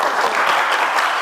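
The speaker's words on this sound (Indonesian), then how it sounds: "tepuk tangan dulu untuk kelompok" A short, steady burst of clapping from a group in a classroom setting, dense and even, heard close with no talking over it.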